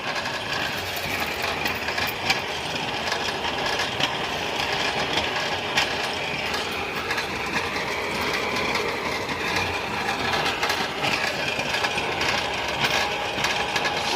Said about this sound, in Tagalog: Hirap na hirap ang makina sa dami ng bato.